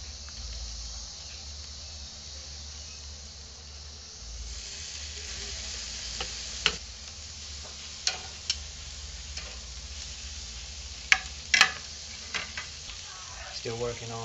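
Onions sizzling on a grill next to a cooking steak, a steady crackling hiss throughout with a few sharp pops and ticks, and a faint voice in the background.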